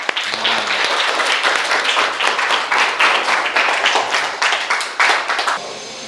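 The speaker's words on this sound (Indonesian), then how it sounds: "bisa kita kasih tepuk tangan?" A university class applauds a student presenter, a steady run of close handclaps from a modest group that fades out abruptly near the end.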